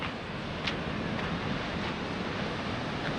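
Ocean surf on a black sand beach in Iceland, waves rolling in as a steady, loud broadband wash with wind buffeting the microphone and no voices.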